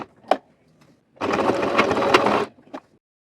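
A sewing machine runs in one steady burst of about a second and a half, stitching fabric for a pair of shorts, with a few soft handling knocks before and after.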